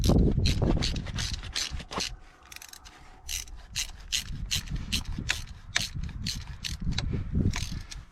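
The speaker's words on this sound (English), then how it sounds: "Grab our ratchet here, just see if we're started." Ratchet wrench tightening a hydraulic remote fitting on a New Holland Genesis 8670 tractor, rapid close clicking in repeated strokes with light metallic rubbing between them.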